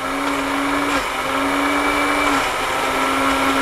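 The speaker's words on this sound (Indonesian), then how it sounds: "Blendernya sampai halus apa kasar, Bu? Halus dong." Kitchen blender running steadily to purée steamed pumpkin for pudding, a loud continuous motor whir with a slight pitch drop partway through, close and alone without talk.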